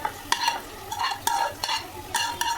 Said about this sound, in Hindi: और फली को ऐड करके मैंने इसको बहुत अच्छे से चम्मच से बहुत अच्छे से मैंने इसको मिक्स कर दिया